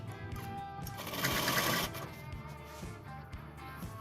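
A sewing machine stitches the round neckline seam of a reversible jacket with a notched collar, a close, rapid mechanical chatter that surges louder in a middle burst, then continues in slower, uneven runs.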